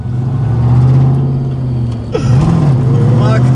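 A muscle car engine revs loudly nearby, holding a steady high-pitched drone before dropping and climbing again, while someone talks over it.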